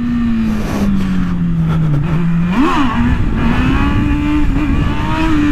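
A 2019 Honda Hornet motorcycle engine revs loudly up close, pitch dipping then jumping sharply and climbing again in a sustained, throaty roar.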